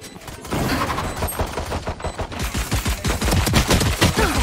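Rapid bursts of automatic gunfire from a shooter video game crackle loudly and continuously, with closely spaced shots overlapping into sustained volleys.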